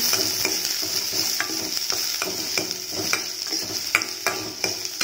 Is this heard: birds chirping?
no